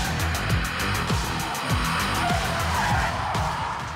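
A Hyundai IONIQ 5 N electric car drifts at sunset, its tires squealing continuously over a rising and falling electric drivetrain whine, loud and close.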